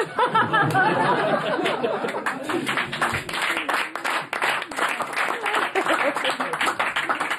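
An audience claps steadily as applause fills the room, with scattered chatter and light laughter mixed into the dense, continuous patter throughout.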